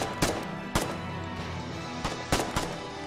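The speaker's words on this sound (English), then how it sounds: "I made up for it by shooting your buddy" Gunfire in the Foxhole video game during an urban battle: several sharp single shots, sometimes in close pairs, cracking over a low, steady background rumble.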